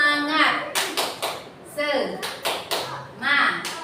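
A classroom of children led by a teacher claps the rhythmic Indonesian 'tepuk semangat' icebreaker. Sharp bursts of clapping come in quick patterned groups, alternating with loud group chanting voices close by.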